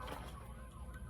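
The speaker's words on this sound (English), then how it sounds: "that was a fire truck, and I keep hearing sirens" Distant fire truck siren, faint and low under a steady rumble of background noise, a brief wailing tone heard from far away.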